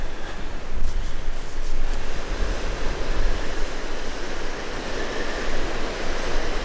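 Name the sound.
rough lake waves in wind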